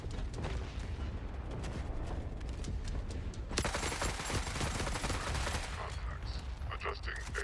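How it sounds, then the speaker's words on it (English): Grenade launcher blasts and steady gunfire in the mech trench combat of the video game Gunhead, a dense continuous fusillade with heavy booms, loud and unbroken throughout. "Oh god, there's a grenade launcher"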